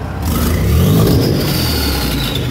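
A car with its catalytic converter cut off revs up, the engine rising to a loud, rough roar with a whining spool that holds and slowly eases, close and alone.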